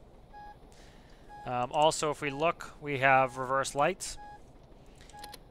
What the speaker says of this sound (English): As you can hear, we have a backup alarm.